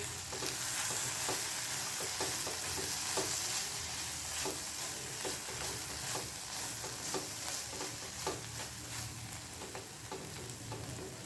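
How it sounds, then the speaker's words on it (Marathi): Soya chunk vegetable curry is stir-fried in a pan, giving a steady close sizzle with regular scraping strokes of a spoon against the pan, running continuously with no one talking. "आपण परतून घेणार आहोत."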